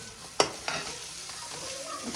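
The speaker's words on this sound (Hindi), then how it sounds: "अदरक लहसुन मैंने ऐड कर दिया, थोड़ा सा इसको हम भूनेंगे" Ginger and garlic frying and being stirred in a pan, with a sharp sizzle burst at the start and a second lift, then a steady soft crackle continuing close by with no talking.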